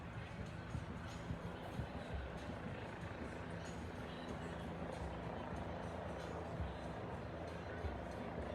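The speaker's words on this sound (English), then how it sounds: "Helicopter somewhere behind me. Incredibly loud." A helicopter flies low above the trees during a street protest, its loud, steady rotor roar continuous throughout, with faint voices underneath.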